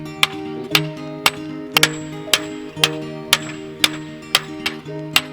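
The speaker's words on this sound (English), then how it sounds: "Hammer it in just like that." Sharp, regular hammer blows driving a fence post into the ground, about one every half second, each ringing with a metallic tone that lingers between hits, close and loud.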